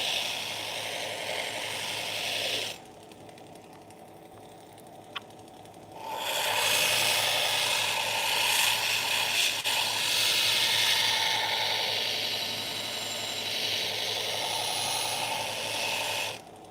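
Steady abrasive scraping of hand-sanding a WWII Japanese Arisaka sword blade, continuous for a few seconds, then a pause, then sanding resumes and carries on at length.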